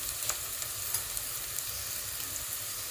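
Ginger garlic paste sizzles steadily in hot oil in a pan, with soft scraping clicks as it is stirred through a gravy of potatoes and drumsticks. The steady frying hiss is close and continuous, with no talking.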